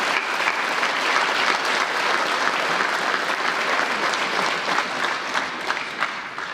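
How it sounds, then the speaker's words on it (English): Sustained applause from a large audience at an evening graduation ceremony, a dense, steady clatter of clapping that fills the whole stretch and tapers slightly near the end. "Can we have a quick round of applause for all the family members here tonight?"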